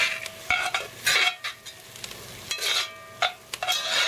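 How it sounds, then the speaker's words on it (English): Spoon stirring vegetables in a pot of beer cheese soup, irregular scraping and clinking strokes against the pot over a soft simmering sizzle, close and fairly loud with no talking. "Stir that up."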